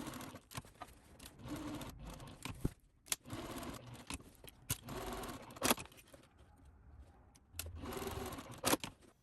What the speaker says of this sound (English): take it over to the sewing machine